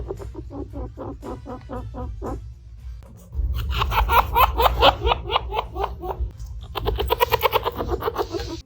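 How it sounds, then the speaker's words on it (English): A chinchilla makes rapid, high-pitched chirping in quick bursts while wagging its tail, a fast repeated series of tiny squeaks, close by with some low rumbling underneath. "really fast chirping sounds whilst a chinchilla is wagging their tail from side"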